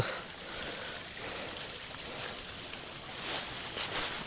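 A waterfall-fed stream at an ashram pours steadily in a continuous broadband rush, close and even in level, with no voices over it.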